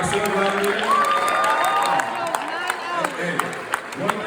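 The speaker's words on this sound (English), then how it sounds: "give yourself a round of applause" An event crowd applauds and cheers, with scattered claps and excited shouts and whoops mixed with voices, moderately loud and fading a little toward the end.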